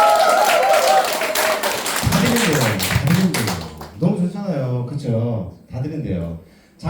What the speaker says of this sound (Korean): 열렬하게 박수를 쳐주셔야 돼요